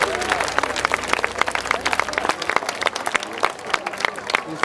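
An audience at an evening event breaks into lively applause, sharp individual claps crackling close by over a crowd murmur, with some voices mixed in.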